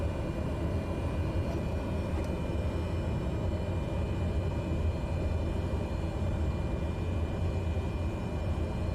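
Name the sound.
Cessna 208 aircraft taking off in a flight simulator video game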